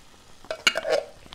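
Diced tomatoes being stirred into black bean soup in a pot, a few quiet wet scrapes and clinks of a spoon against the pan, close and brief, over faint sizzling.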